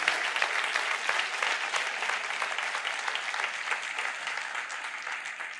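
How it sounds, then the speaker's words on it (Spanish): A church congregation applauds during a sermon, sustained and dense clapping that fills the room evenly for several seconds with no speech over it. "Dale un aplauso al Señor bendito."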